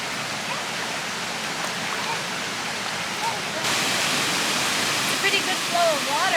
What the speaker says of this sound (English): It's a pretty good flow of water, but what's most impressive to me is all this extra water that's coming from all other sides